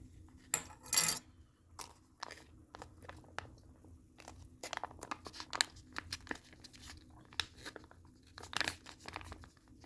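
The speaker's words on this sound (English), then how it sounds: "I'll pour it out into a bowl" Chicken chili poured from a crinkly pouch into a bowl during a Texas blizzard trip, heard as plastic crinkling and tearing, soft wet plops, and light clinks of dishware, all fairly close and quiet with no talking.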